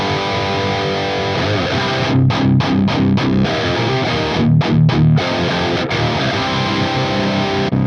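Electric guitar played through an Axe-Fx III amp simulation on a straight amp scene, giving a loud, sustained distorted tone with a run of choppy staccato stabs in the middle and again later, without any talk.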